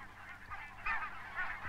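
Barnacle geese give repeated nasal honking calls at moderate distance, several overlapping yelps in quick succession from what sounds like a small flock, with no talking.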